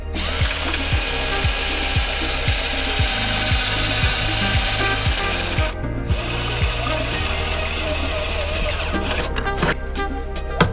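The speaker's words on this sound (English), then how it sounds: "finish drilling out with new drill bits, the weld marks on the top here, so this just pulls right off" A drill cuts out spot welds on the frame of a Saab 9-5 car, a loud continuous grinding whir with rapid rhythmic clicking and scraping of bit against metal, close up and without speech.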